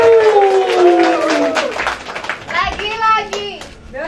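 An audience with children claps at an outdoor stage event, a short burst of hand clapping mixed with excited young voices and a few people speaking.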